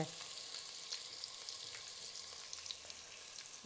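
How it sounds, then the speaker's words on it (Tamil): Onions sauté for Arabic chicken mandi, sizzling steadily in a hot pan with faint stirring scrapes. No voices are heard. "வெங்காயம் போட்டு வதக்குறேங்க"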